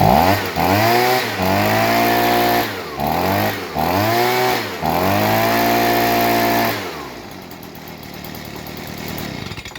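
A small engine, reassembled after carbon cleaning, runs and revs repeatedly in close, loud bursts with rising and falling pitch, then shuts off, leaving quiet background.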